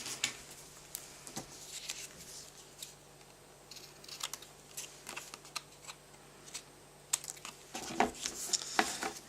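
Scissors snip and crunch along paper edges, trimming a square for an embossed ribbon tag, heard as close, irregular, light cuts and rustles with no voices.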